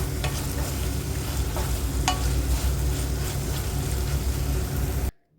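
Tomato chutney mixture for an idli-dosa chammanthi sautéing in oil in an open pan, a steady close sizzle with the spoon scraping and stirring through it before it cuts off abruptly near the end.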